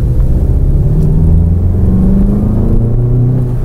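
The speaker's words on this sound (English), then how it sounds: "we switch back to the sports mode, and now suddenly the engine sound" VW Golf 7 GTI Performance, 245 hp, driving in sports mode: a steady, loud engine drone with a deep rumble and shifting tones as revs change, continuous and close.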